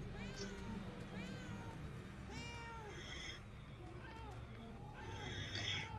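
Cat meowing in the video game Murdered: Soul Suspect, several rising meows repeated across the stretch over a steady game soundscape, with someone talking throughout.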